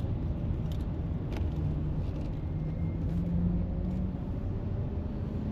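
Steady low rumble of motorway traffic in New Zealand, with vehicles passing at a distance and a constant background hum.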